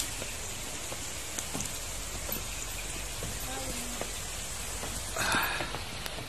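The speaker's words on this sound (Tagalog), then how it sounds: "Ang lakas ng ulan!" Steady heavy rain pouring down on a surface in Davao, Philippines, a dense continuous hiss with scattered drop impacts and a brief louder splash near the end.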